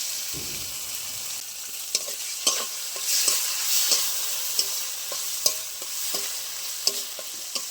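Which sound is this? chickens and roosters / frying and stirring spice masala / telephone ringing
frying and stirring spice masala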